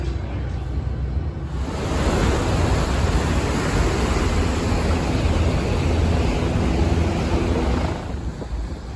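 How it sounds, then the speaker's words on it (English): Aboard the Staten Island ferry on open water, broad steady wind and engine rush fills the air, loud and continuous with a slight swell in the middle. "I'm now on the Staten Island ferry."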